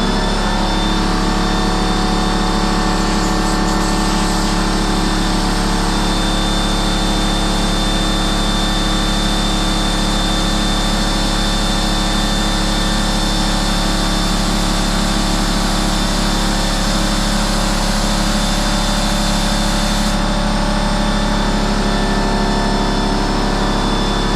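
Husky 27 gallon air compressor running with its valve open, a loud, steady motor drone and hum that holds constant throughout, no talk.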